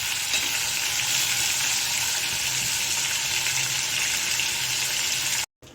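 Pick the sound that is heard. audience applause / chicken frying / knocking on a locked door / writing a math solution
chicken frying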